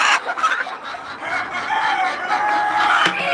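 Chickens at a poultry trader's place cluck and a rooster crows, loud and close, the calls layered over each other with steady farmyard noise throughout.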